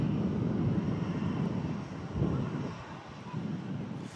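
An A380 arriving from Dubai roars as a steady, distant jet rumble mixed with gusty wind noise on the microphone.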